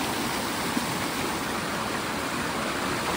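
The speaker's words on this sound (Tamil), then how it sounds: "தண்ணி இப்போ கூடும் பாருங்க, மழை பெய்யுது." A rain-swollen stream rushes steadily at a hidden water spot in Kanyakumari district while rain falls, a constant broadband wash of flowing water with no breaks or voices.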